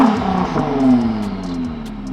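A Ford GT Heritage Edition's engine revs up close in one moderate, rising blip, then settles into a falling drone as the revs drop, with no talk over it.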